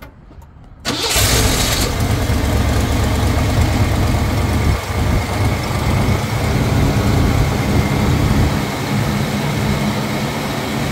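A 1972 Lincoln Mark IV's 460 V8 cranks briefly and catches, then settles into a loud, steady idle with a rough exhaust note from a leaking manifold, close up with no talking.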